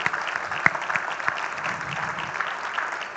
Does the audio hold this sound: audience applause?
yes